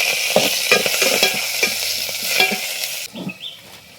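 Onions browning in a pan with curry leaves give a loud, crackling sizzle with repeated scraping stirs, which drops to a quieter simmer near the end.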